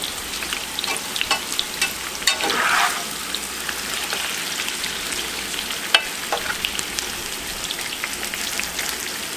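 New potatoes fry in hot oil in a pan, a steady loud hiss and crackle like rain, broken by a few scraping stirs and utensil knocks.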